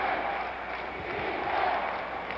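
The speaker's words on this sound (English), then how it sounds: "And listen to that intimidating crowd." A steady roar from a packed arena crowd at a 1970 Lakers at Knicks basketball game, sustained and loud, swelling slightly midway through.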